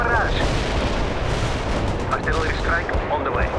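Artillery strike in the video game World in Conflict: a dense, rumbling barrage of heavy booms and gunfire rolls continuously, loud and close, with faint whistling tones overhead.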